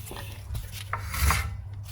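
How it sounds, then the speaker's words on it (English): Brake shoes on a 2012–2018 Subaru Impreza rub against the drum as the rear wheel is turned by hand during handbrake adjustment, giving a soft, continuous scraping rasp that swells slightly midway, close and fairly quiet. "You can hear the noise touching the brake shoes."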